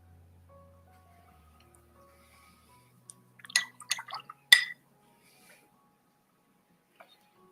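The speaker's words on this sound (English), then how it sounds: "A bit of rinsing, a little bit of water" A paintbrush being rinsed in water, heard as a short burst of quiet splashing and clinking against a container in an otherwise quiet room.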